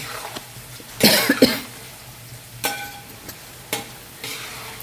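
Pickle ingredients fry in hot oil in a pan, a soft steady sizzle running under a few louder bursts of stirring or clattering, with no voices.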